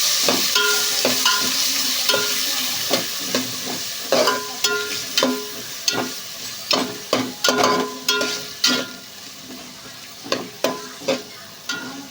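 Tomatoes frying in a hot pan for tomato bath, a continuous close sizzle with a regular run of sharp spatula scrapes and taps that repeat roughly every half second, no voices.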